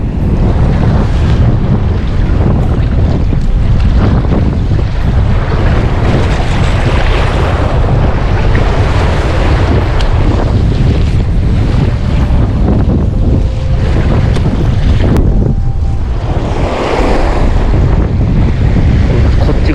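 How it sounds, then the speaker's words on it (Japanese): Waves slap and wash over a small boat on Lake Biwa, alone and loud, with constant roaring wind buffeting the microphone throughout. "波かぶってんな、ちょっと。"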